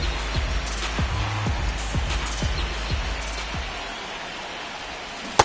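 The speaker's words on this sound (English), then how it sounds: "This rain is not letting up." Steady rain falls on a ballpark in MLB The Show 26 during a Road to the Show Angels game, a continuous hiss with scattered thumps, then a sharp click near the end.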